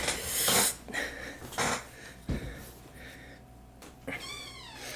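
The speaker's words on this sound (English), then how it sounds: "Cat!" A cat meows a few times close by, with drawn-out, wavering cries standing out over a noisy indoor background with occasional bumps and faint breathing.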